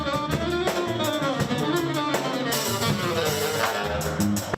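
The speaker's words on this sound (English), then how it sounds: "That is the sound of music. Actual live music in downtown Fargo." A local live band plays on the street in downtown Fargo, with full, continuous music carrying drums and bright instruments without pause for several seconds.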